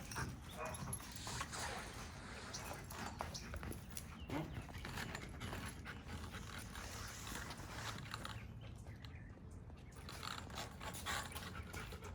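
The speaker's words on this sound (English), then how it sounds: "He knows the dogs in the background are barking." Several dogs bark in the background during a dog training session, the sound blurred into a steady, busy wash of noise that runs the whole time.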